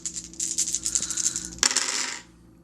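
Six dice tumble across a hard surface in a ten-dice game of Yahtzee, a rapid close clatter of rattling clicks ending in a final sharp tumble before settling into silence.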